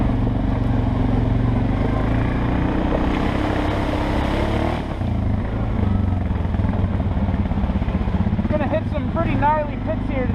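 A Suzuki KingQuad 750 4x4 ATV engine drones steadily and loudly as it churns through mud pits, dipping briefly midway, while someone talks over it.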